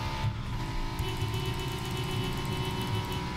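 Engine of a damaged three-wheeled video game motorcycle, run without its third wheel, drones steadily and close at a constant rev for the whole stretch, with no voices over it.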